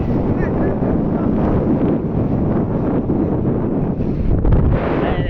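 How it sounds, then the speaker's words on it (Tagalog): Strong, steady desert wind in Saudi Arabia buffets the microphone with a loud, continuous roar throughout, with a few low gusts and faint voices underneath. "malakas talaga yung hangin"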